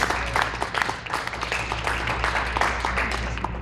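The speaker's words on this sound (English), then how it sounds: "can we please give a round of applause for our panelists?" Applause for a panel at a sports philanthropy fundraising event, a dense patter of clapping from an audience filling the room for a few seconds.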